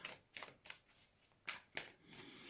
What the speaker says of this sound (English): And final shuffle for your cards for this month.